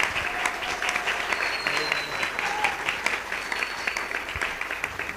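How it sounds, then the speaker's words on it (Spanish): A church audience claps warmly for a woman about to share her story of converting to Catholicism; sustained, even applause carries throughout at moderate loudness. "Muy bien, fuerte aplauso para la hermana."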